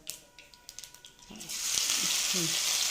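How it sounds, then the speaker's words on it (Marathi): Cumin and mustard seeds spluttering in hot oil in a pan, a few sharp pops and clinks at first, then a steady close sizzling hiss that fills the rest. "जिरं मोहरी तडतडली आहे"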